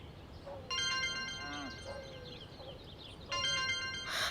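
A mobile phone ringtone plays for an incoming call from a father, a bright repeating electronic melody in two bursts over quiet room tone, with a faint voice briefly heard.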